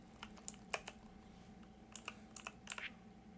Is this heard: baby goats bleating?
no